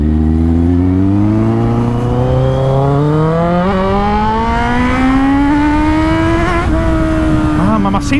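A Kawasaki Z800e motorcycle engine revs steadily upward in pitch, loud and close, with a brief gear change near the end.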